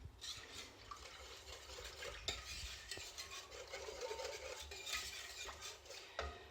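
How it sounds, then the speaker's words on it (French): A whisk stirs béchamel sauce steadily in a pan, a soft continuous scraping and swishing with faint metallic clinks against the pan, close and quiet with no talk. "Et on ne fait que tourner, ne vous arrêtez pas."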